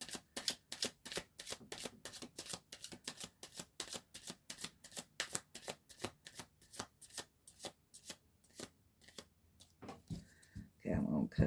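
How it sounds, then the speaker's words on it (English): A tarot card deck is riffle-shuffled in a rapid, even series of crisp close bursts, about two per second, before slowing and ending with a few fumbling handling sounds. "I'm going to cut the deck"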